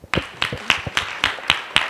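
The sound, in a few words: audience clapping for a well-dressed candidate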